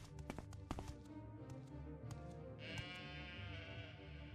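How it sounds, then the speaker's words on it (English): An Ashlands goat in the video game Morrowind gives a faint, wavering bleat in the background, preceded by a few light taps and clicks, with no talking over it. "Ah, the rare Ashlands goat."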